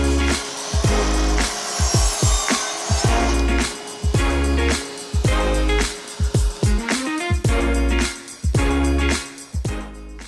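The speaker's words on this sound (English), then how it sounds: "We can get that cut on the miter saw." A miter saw cuts wood pieces in a workshop: loud, close strokes with repeated sharp knocks and clatter as the pieces are handled, in an irregular rhythm without speech.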